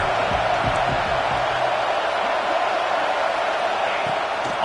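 A stadium crowd at a football game, a dense, continuous roar of many voices with some cheering, steady and loud throughout.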